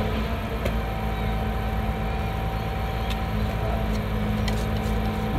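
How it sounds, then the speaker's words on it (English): A garbage truck's engine near Sydney Harbour, heard as a steady, fairly loud low rumble that drones on without a break and never clearly rises or falls. "I don't know if you can hear that garbage truck."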